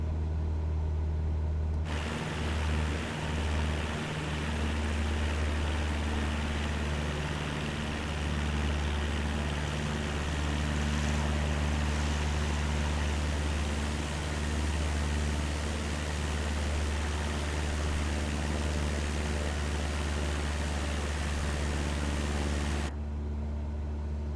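A Cessna 172 engine in Microsoft Flight Simulator drones steadily at high revs, a dense, constant roar with a low rumbling hum that holds at the same level from start to finish with no speech.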